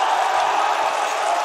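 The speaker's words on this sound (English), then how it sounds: "The crowd absolutely loving that one." An esports arena crowd at a Counter-Strike: Global Offensive match roars in one brief, dense wash of cheering that holds loud and steady throughout, with no single voice standing out.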